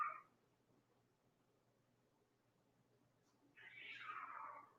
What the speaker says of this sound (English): There are cats fighting behind my house right now.